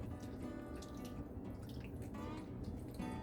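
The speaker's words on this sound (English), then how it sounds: "I'm just gonna have to add some plain water" Plain water running and dripping into a pot of beef shank pot roast being cooked, a soft continuous trickle with small splashes and faint kitchen clatter, fairly quiet.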